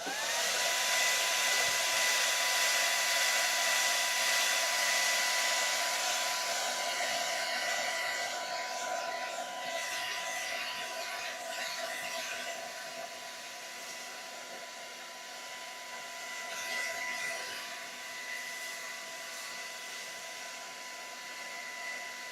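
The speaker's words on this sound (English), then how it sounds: "I'm gonna dry this one up really quick with the hair dryer." A hair dryer roars steadily at close range for the whole stretch, a constant airy whir with slight shifts in pitch and intensity.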